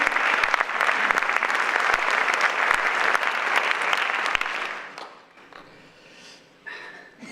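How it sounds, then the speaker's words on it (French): Audience applause at the closing ceremony of an international film festival, a loud, dense burst of clapping from a hall crowd that runs for several seconds, then drops away abruptly, leaving faint room noise and scattered movement. "On peut les applaudir."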